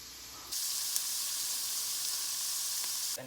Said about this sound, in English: So we're just gonna put a little bit more oil in the pan and then plop these carrots